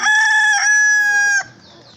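A loud, close hen call with drawn-out, tonal notes, sounding more like a crowing cry than soft clucks, then fading into quiet background noise.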